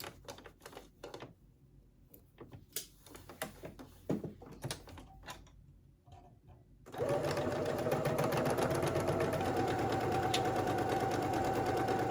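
Domestic sewing machine stitching a halter maxi dress: scattered handling clicks and fabric rustles, then a steady close motor whir with rapid needle chatter running continuously to the end.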